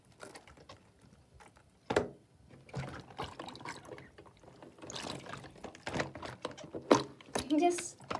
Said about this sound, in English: Okay, the water's at medium.